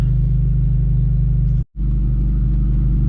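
Idling Honda with a K24 engine and a loud broken exhaust, a deep throbbing rumble heard close up that cuts out abruptly for an instant near the middle before resuming at full volume.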